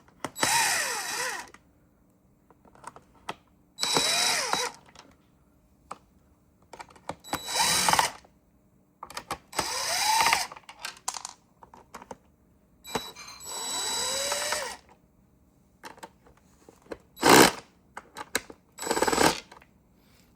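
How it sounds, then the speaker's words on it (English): An impact driver unscrews the screws on a Eufy S1 robot vacuum in a series of loud, close bursts of hammering whir. About eight separate runs are separated by short pauses, with no talking. "if you have an impactor, go ahead and use the impactor"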